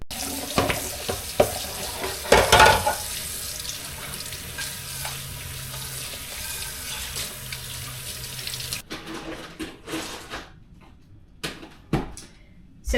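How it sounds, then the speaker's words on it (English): Running tap water splashes into a kitchen sink as a dish is rinsed under it, steady and close for about nine seconds before the flow stops, leaving a few knocks and clatters of handling. "I'm gonna go ahead and wash this out and prepare to cook dinner."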